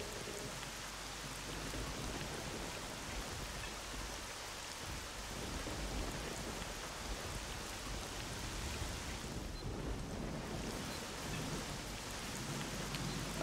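Steady rain pours down in S.T.A.L.K.E.R.: Shadow of Chernobyl, a dense, unbroken hiss of drops on surfaces that lasts throughout, with a faint low rumble and no talking.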